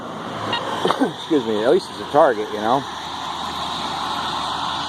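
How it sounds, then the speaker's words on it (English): Steady road traffic rumbles and hisses from right beside a roadside spot during a metal-detecting hunt, a constant noise bed under a man's brief spoken remarks. "Sorry about the noise, right next to the road"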